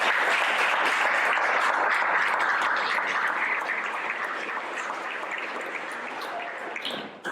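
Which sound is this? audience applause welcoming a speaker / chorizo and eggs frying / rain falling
audience applause welcoming a speaker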